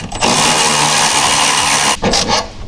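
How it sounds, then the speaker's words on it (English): A ratchet loosening a 13mm nut on a rear sway bar bolt of a VW GTI gives a loud, close, continuous mechanical whir that breaks briefly near the end before resuming. "First things first, we've got 13mm nut on this bolt. Put a ratchet on the other side."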